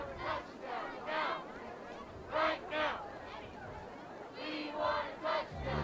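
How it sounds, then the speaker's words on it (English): A high school football crowd chanting for a touchdown, rhythmic massed shouts rising and falling in repeated bursts from the stands. "The Gator crowd chanting that they want a touchdown right now"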